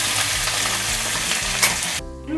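Onions and curry leaves hitting hot oil in a Ballari mandakki oggarane tempering sizzle loudly and densely close by, under a low background hum, then the frying noise cuts off abruptly near the end.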